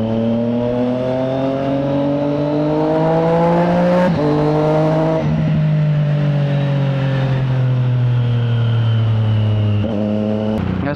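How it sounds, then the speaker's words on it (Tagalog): A 2024 Triumph Street Triple R with a Zard exhaust revving loudly and steadily, its engine note rising and falling with a few sharp blips, plus a slight whistle riding on top. "kapag bumabomba ako, meron siyang slight whistle. Natutuwa ako dun sa sound na yun May unting whistle siya sa engine."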